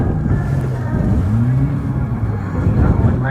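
A stock car engine at Crimond Raceway in Scotland rumbles and revs up loudly, with a continuous low growl and rising pitch throughout the short clip.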